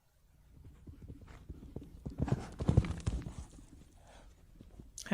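Horse hooves clip-clop in an Unreal Engine MMO game, a run of uneven hoof strikes that starts faint, grows louder and busier in the middle with overlapping steps, then thins out.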